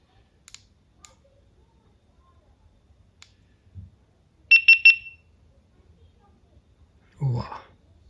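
A GoPro Hero 10 being handled: soft clicks as its door is latched, then three quick bright electronic beeps as it powers on, in an otherwise quiet room, followed by a brief voice.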